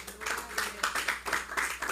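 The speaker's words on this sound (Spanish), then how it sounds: "Dele ese aplauso al Señor." A church congregation claps together in a steady burst of applause, close and fairly loud, with no talking.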